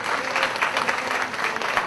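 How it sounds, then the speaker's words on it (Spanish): A crowd applauding steadily, a dense wash of many hands clapping at once, sustained and fairly loud throughout. "Un aplauso a la hermana."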